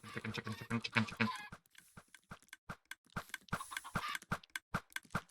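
Chickens in Minecraft cluck in quick, dense bursts, several birds overlapping at first, then thinning to sparse, clipped clucks with short gaps before building back into a busier flock.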